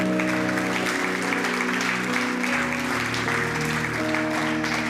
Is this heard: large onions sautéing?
no